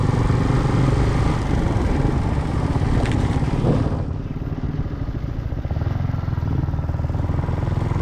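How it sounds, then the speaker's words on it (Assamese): A Yamaha MT-15 motorcycle with around 27,000 km on it rides smoothly along. Its engine gives a steady, loud drone mixed with road and wind noise throughout. "বাইকখন মজা স্মুথ হৈ আছে মানে চলাই ভাল লাগে"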